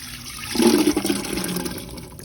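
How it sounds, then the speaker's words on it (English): Cold water gushing into a soup pot holding potatoes and thyme, a close, steady splashing pour that starts abruptly and gradually eases off. "We're gonna go ahead and add our potatoes and some cold water."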